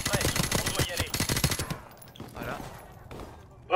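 Rapid automatic gunfire from Call of Duty Modern Warfare Remastered, loud dense bursts for over a second before trailing off into quieter scattered game noise.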